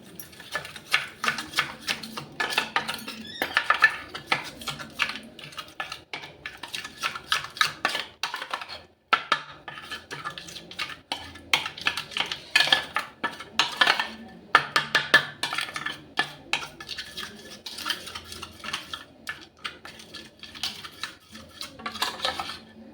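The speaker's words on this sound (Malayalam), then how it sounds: "ഇപ്പം ഞാൻ നന്നായിട്ടൊന്ന് മിക്സ് ചെയ്തുകൊണ്ട് വരാം" An orange peel powder face pack is mixed in a bowl, a long run of quick, irregular clicking and scraping taps from a spoon against the bowl, close and alone.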